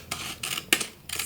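Scissors snip along the edge of a card, four short crisp cuts in quick succession, close and alone with no talking.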